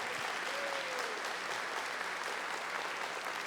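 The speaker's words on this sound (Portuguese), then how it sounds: "Vamos aplaudir a palavra de Deus." A church congregation applauds, a dense steady wash of clapping heard from within the crowd, fairly quiet and sustained throughout.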